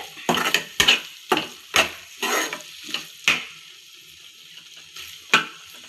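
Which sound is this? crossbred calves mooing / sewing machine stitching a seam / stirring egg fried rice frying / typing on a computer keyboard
stirring egg fried rice frying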